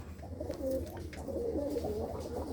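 Racing pigeons coo softly and repeatedly at close range in a loft, their low throaty calls overlapping against a faint background hum.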